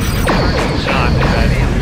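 Torpedo spread firing in the space combat game Star Trek Online, a dense, loud run of whooshing launches and impacts with sweeping tones that fill the short burst without pause.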